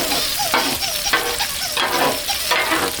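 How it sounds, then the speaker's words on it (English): Potatoes being scraped and moved across a hot Blackstone griddle, steady close sizzling broken by repeated rhythmic scrapes of a spatula on the metal surface. "So we're gonna consolidate our potatoes over here a little bit."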